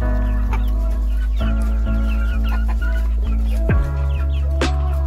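Chickens eagerly eating feed, clucking loudly and jostling close by, with overlapping calls over a steady low hum.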